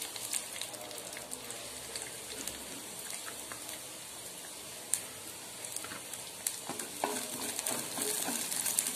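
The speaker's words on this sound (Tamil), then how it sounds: "பூண்டு ஆட் பண்ணிக்கலாம்." Garlic frying in oil in a pan for a spicy garlic chutney, a steady close sizzle and crackle with occasional spatula stirring scrapes, growing slightly louder toward the end.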